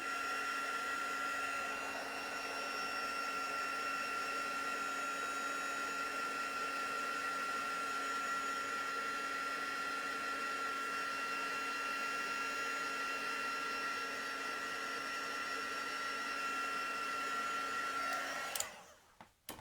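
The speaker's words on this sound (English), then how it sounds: "now the trick with that is I'm just going to give it a little dry with my heat tool" A heat tool runs steadily for nearly twenty seconds, drying watercolour pencil work on coloured card. Its motor and fan hum and blow in a constant whine, loud and close, then cut off abruptly at the end. No one speaks.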